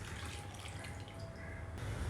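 Water, about one and a half cups, is poured into two cups of sugar for gulab jamun syrup, a soft, steady trickling splash that runs for a couple of seconds with no talking.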